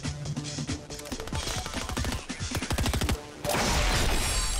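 Gunfire in Fortnite comes in a dense, loud burst of rapid repeated shots, then gives way to a louder, noisy blast near the end.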